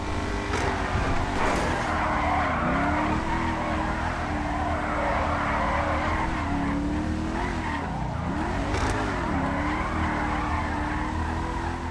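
Car sliding and skidding in GTA 5 with realistic handling, a steady engine roar under sustained tire squeal whose pitch bends and wavers as the slide is held and corrected, loud and continuous throughout.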